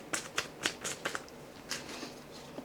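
Tarot cards are shuffled in several quick, crisp bursts of flicking and riffling, close up and fairly soft, with short pauses between the bursts.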